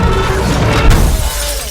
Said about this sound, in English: The chair gets pulled across the room and shatters a window